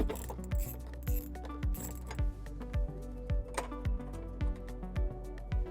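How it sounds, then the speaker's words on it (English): A 10mm socket ratchet loosens a taillight bolt on a 2018 Jeep Wrangler, giving a close, quiet run of evenly spaced clicking swings, about ten strokes, with small metallic ticks between them. "we're now going to remove this bolt using a 10mm socket"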